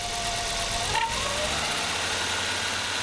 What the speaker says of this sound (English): The car runs a lot smoother